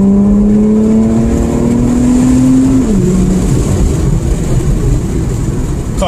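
An Infiniti Q50 with a Rev9 catback exhaust pulls hard in manual mode, heard from inside the cabin with the window slightly cracked, its engine droning loud and steadily rising in pitch before a shift drops it and the roar continues.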